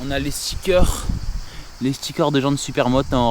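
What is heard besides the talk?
No everyday noise stands out behind the speech.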